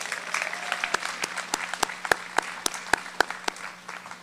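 An audience at a school commencement ceremony applauds the school band, with a thin wash of clapping and sharp, distinct close claps standing out at an uneven rhythm.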